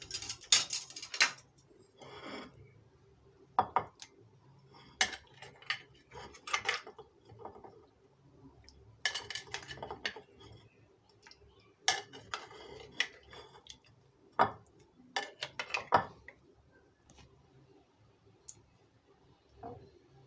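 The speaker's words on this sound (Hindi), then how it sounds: "और अब हम इसके अंदर पेठे के पीस डाल देंगे।" Pieces of pumpkin for pickle dropped into a bowl make scattered soft clinks and taps, quiet and irregular with pauses between them.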